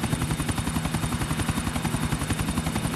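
Rotor chop of a helicopter in GTA during a race heat, a steady rapid thumping that stays loud and close throughout, with no talk over it.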